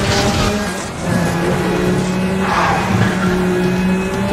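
A race car drifts in Need for Speed: The Run, its engine droning loud and steady under a long continuous tire squeal and skid, with no voices.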